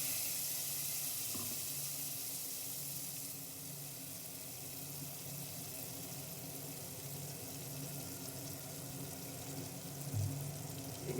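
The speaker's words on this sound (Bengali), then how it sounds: "মিক্সার গ্রাইন্ডারটা ধুয়ে দিয়ে দিলাম" Water runs while a mixer grinder jar is rinsed, a faint, steady splashing and hiss lasting throughout with a slight clatter near the end.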